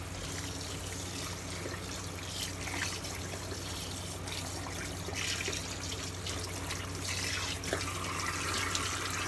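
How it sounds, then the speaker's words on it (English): Tap water runs steadily into a sink while soap is rinsed off a hand, a faint, continuous trickling splash with no speech. "I rinse all the soap off this hand."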